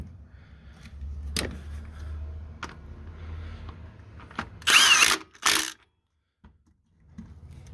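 A Milwaukee M18 Gen 2 mid-torque impact wrench at a salvage yard, with two loud, close bursts of rapid impact hammering as it spins bolts loose, set among quieter clanks and handling noises.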